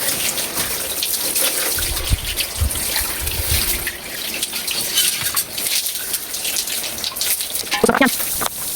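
Tap water running into a kitchen sink during rinsing, a continuous splashing gush with small clatters and trickles, close and fairly loud with no talking.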